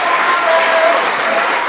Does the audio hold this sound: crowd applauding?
yes